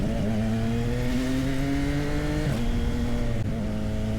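A Ducati Multistrada V2S motorcycle hums steadily up close on a ride to Tagaytay, with two short throttle blips lifting the engine note partway through.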